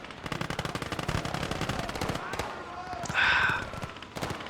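Rapid machine-gun bursts and rifle fire from the World War II strategy game Gates of Hell: Ostfront crackle densely through the clip, with a louder burst near the end, while a commentator talks over the battle.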